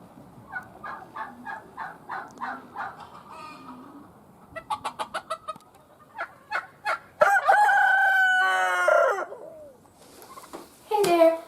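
A rooster crows loudly and nearby, one long drawn-out call, amid repeated clucking and gobbling from other fowl, with short rhythmic calls before it.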